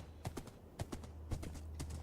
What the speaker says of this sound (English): Oh, this is quite a quick horse.